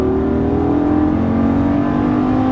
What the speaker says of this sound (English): And hard on the throttle, coming out.